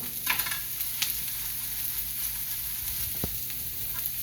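Food sizzles steadily in a pan as it cooks down, with a few brief stirring clicks and knocks over a constant frying hiss; no voices.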